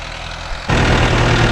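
Mahindra Novo 605 tractor diesel engine idling, then jumping abruptly to a louder, heavier rumble partway through, a steady low mechanical drone up close.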